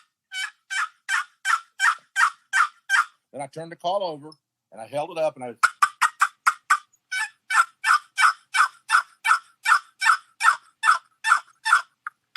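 Wild turkeys call in response to a box call, with long, evenly paced series of sharp, loud turkey notes before and after someone speaks briefly in the middle.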